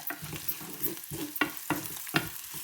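Brinjal sautéing in a pan with turmeric, a gentle sizzle under a regular rhythm of spatula scrapes and stirs, close and moderately quiet.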